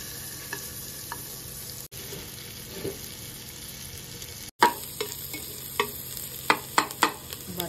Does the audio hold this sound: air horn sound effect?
no